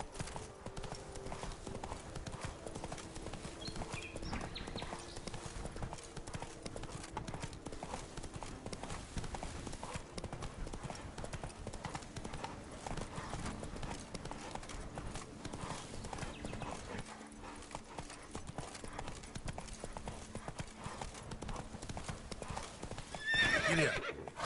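A horse named Roach trotting in a steady clip-clop rhythm throughout, with a whinny rising near the end, all under a constant dense background.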